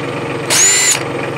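A brief burst of a Bauer 20V cordless drill on its higher speed setting, a sharp whining motor lasting about half a second before cutting off.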